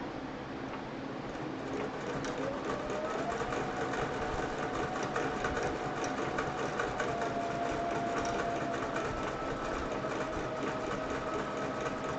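A sewing machine stitches continuously while machine quilting a chicken-patterned fabric quilt, a steady fast mechanical whir and rattle at close range that holds for the whole stretch without talk.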